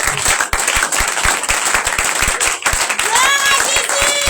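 Church congregation applauding during a Passover service, with steady dense clapping throughout and a voice speaking over it.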